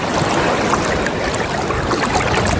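Sea water splashes and churns around a swimmer off Tenerife in slightly wavy water, a loud, constant close-up wash of surf noise with no talking.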